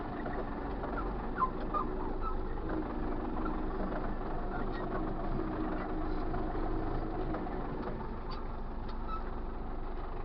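An MTZ-82 tractor in sixth gear drives forward, its engine giving a steady, continuous rumble with even loudness throughout and no talk over it.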